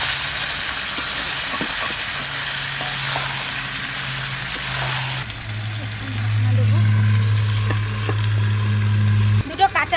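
Water splashes into chicken frying in a pan in a village-style kitchen, the hot oil sizzling steadily throughout, then flaring into a louder, hissing bubble partway through, with faint voices in the background.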